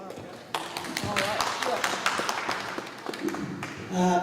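An audience claps at a school board candidate forum. A burst of scattered applause lasts several seconds, then fades as a voice begins speaking.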